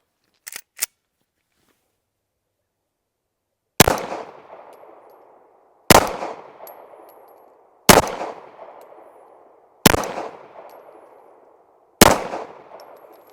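A Caracal Enhanced F pistol fires Federal Champion ammunition at targets about 8 yards away on a shooting range. There are five loud, sharp shots spaced roughly two seconds apart, each with a ringing decay, after a couple of small clicks.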